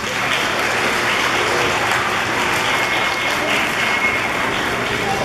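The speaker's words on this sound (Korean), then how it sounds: "다시 한번 박수 보내주세요." Applause from an audience at a Korean school Lunar New Year celebration in Atlanta, a steady, dense wash of clapping that stays even and loud from start to finish.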